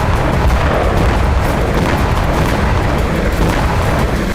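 Missile, rocket and suicide drone strikes on Israel from Lebanon produce a loud, continuous roar of booming blasts and rumbling, dense and unbroken throughout, with no voices.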